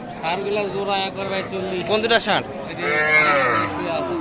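Cattle, young bulls and heifers at a livestock market, low with long, drawn-out moos, close by, while people talk nearby.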